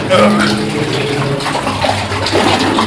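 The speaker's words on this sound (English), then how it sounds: "The water is currently up to my knees." Wading through knee-deep water in an abandoned silver mine tunnel in San Gabriel Canyon, with steady sloshing and splashing close by that carries on throughout with no pause, under a faint hum.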